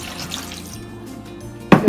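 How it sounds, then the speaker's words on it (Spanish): Water is poured into a pot to start kumquat jam, a short soft trickle in a kitchen ending with a sudden louder splash. "Entonces yo solo le voy a poner una taza de agua."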